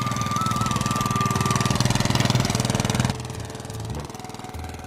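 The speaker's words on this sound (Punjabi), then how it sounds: "ਇਹ ਜਿਹੜੀ ਚੀਜ਼ ਇਹਨਾਂ ਇਹਨੂੰ ਜਨਰੇਟਰ ਕਹਿੰਦੇ ਨੇ" A small generator engine runs steadily outdoors in a terrace garden, a chugging mid-pitched idle with a rhythmic pulse and a faint whine, dipping in level after about three seconds.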